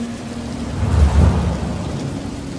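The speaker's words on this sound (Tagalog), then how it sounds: "pumatak ang pinong-pinong pag-ulan hanggang sa bumuhos na ito ng" Heavy rain pours down in a steady hiss, with a low rumble swelling briefly in the middle, loud and close with no voices over it.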